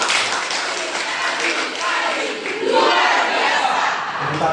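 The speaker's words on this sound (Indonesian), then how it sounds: "Tepuk tangan sekali lagi." Classroom students applauding in a noisy, dense burst of clapping mixed with cheering voices, loud and continuous throughout, with crowd shouts swelling near the end.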